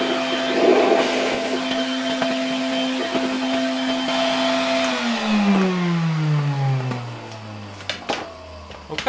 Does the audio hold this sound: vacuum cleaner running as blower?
yes